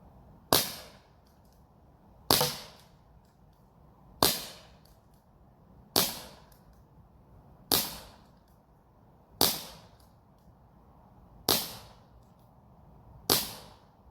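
Air gun shots fired while plinking at small targets, eight sharp cracks spaced about two seconds apart, each fading quickly into quiet between shots.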